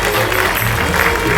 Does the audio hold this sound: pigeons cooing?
no